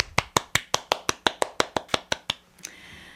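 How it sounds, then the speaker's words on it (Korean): Hand claps welcoming a guest on a Korean art talk show: about a dozen close, evenly spaced claps in a steady rhythm, then a single soft tap before quiet. "박수로 맞아주세요"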